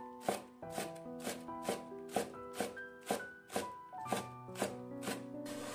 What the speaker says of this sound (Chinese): 一把洗干的小葱给它切成葱花